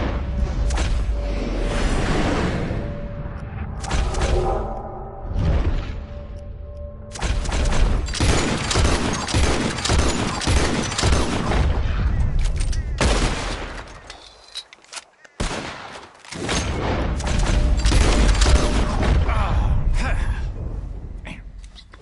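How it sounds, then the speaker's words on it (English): A shootout in Red Dead Redemption 2 crackles with repeated rapid gunfire bursts and booming shots, loud and close, broken by short lulls and a brief near-silence midway, with occasional voices in the mix. "As soon as you see them, start shooting."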